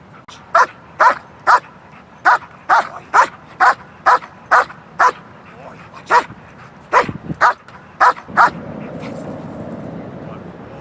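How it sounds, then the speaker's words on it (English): A protection-trained dog barks sharply on cue at a toy about fifteen times in a fairly steady rhythm, close and loud, before the barking stops and a low background murmur remains. "We taught them how to bark on cue at the ball"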